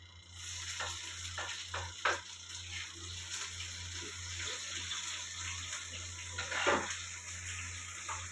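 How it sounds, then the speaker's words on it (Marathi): Onion tossed into hot oil with garlic that has turned red, a steady close sizzle with stirring scrapes and a brief louder burst partway through. "लसूण लाल झालाय कांदा टाकून घेते"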